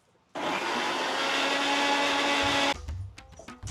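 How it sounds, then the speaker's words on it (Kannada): A mixer grinder grinds fresh coconut in one loud, steady whirring burst of about two seconds, then stops, followed by a few knocks and clatters from the jar. "ಒಂದು ಮೇಲ್ಗಡೆ ಒಪ್ಪ ತೆಂಗಿನಕಾಯಿ ರುಬ್ಕೋತಾ ಇದ್ದೀವಿ."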